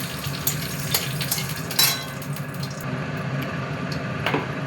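Cumin seeds and a torn bay leaf hit hot oil in a pan while cooking vegetarian paneer, giving a steady, close hissing sizzle with a few sharper crackles and no voices.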